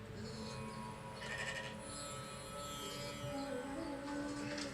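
A goat at goat yoga gives a few wavering bleats over a steady background, fairly close and moderately loud, with no talking.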